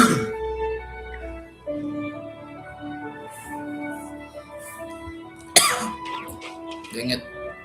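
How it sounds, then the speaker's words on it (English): A few close coughs and some throat clearing cut through a steady layer of game music and effects, with one sharp loud burst partway through. "Coughing again."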